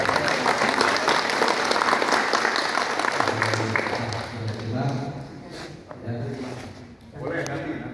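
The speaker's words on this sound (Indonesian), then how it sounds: "Oke, Kasih aplaus." Applause from a farmers' group gathered for a dialogue with a regent, strong at first and thinning as voices talk over the fading clapping.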